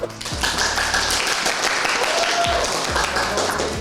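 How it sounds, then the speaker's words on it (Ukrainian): A classroom at a lyceum breaks into brief, lively applause: a loud burst of clapping from many students, fairly close, running almost four seconds without letting up. "Оплески."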